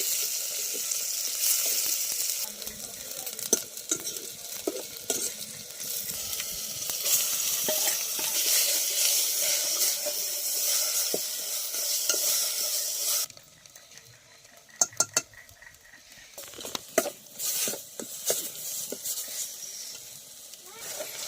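Tamarind flower chutney being stirred lightly by hand, a soft scraping and mixing texture that runs steadily at first, then drops to quieter, sparser stirring with a few sharper clicks near the end.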